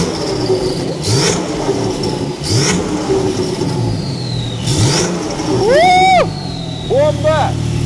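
A Singer GTR Carbon Edition car engine revs in short bursts, several quick blips followed by two louder sweeping revs near the end, heard close with people talking over it.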